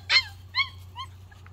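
Goldendoodle puppy whimpering, three short high-pitched whines in quick succession, close and clear over a low steady background hum.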